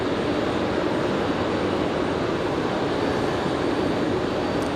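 A Republic Airways Embraer E175 jet arriving at Raleigh-Durham International roars loudly and steadily throughout, a dense, constant engine rush with no voices.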